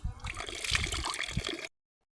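Water at a Mangala shrine splashes as someone washes their face, close wet splashing and trickling for over a second before cutting to silence.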